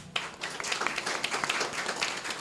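Worship congregation clapping hands together in praise, a dense, steady crowd of overlapping claps filling the room for a couple of seconds, fairly loud and continuous.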